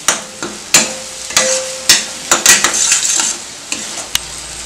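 Masala with chili powder being sautéed in a pan for crab masala: a run of loud, sharp scraping and stirring strokes over a soft sizzle, with irregular clatters of the spoon against the pan.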